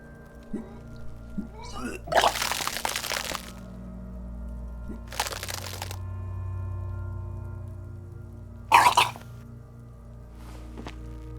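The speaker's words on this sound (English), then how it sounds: "Your body curls and pushes it out, burst by burst, until a pool of vomit lies under your feet" Retching bursts from the game Disco Elysium come in short, noisy spasms separated by quiet gaps, with a low ambient hum underneath and no talk.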